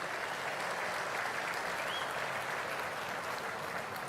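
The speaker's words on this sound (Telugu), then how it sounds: "గట్టిగా చప్పట్లు కొట్టి అభినందించండి" Sustained audience applause at a public political gathering honouring ministers, a dense steady wash of clapping from a large crowd lasting throughout without a break.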